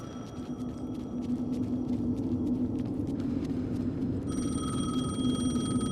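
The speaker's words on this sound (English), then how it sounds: "The phone again." A telephone rings in Alan Wake 2, a steady electronic trill that repeats across the clip and swells louder near the end over a low ambient rumble.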